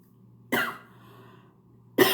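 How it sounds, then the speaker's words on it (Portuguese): Two close, loud coughs from someone suffering from sinusitis, one at about half a second and another near the end, separated by quiet. "Que tosse, gente."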